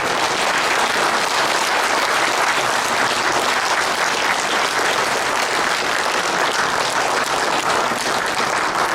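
Loud, sustained applause from an audience at a lecture hall gathering, a thick unbroken wall of many hands clapping at constant strength from start to finish with no voices standing out.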